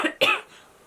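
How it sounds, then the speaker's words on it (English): Two quick, close coughs from someone with a crumb stuck in the back of the throat, a short harsh burst followed by a louder second one that trails off into quiet. "Can't stop coughing. I literally got a what's it like crumb in the back of my throat."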